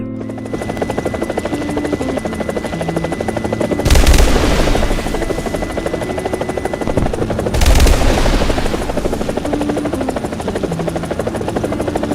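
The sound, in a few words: A-129 Mangusta Italian military helicopter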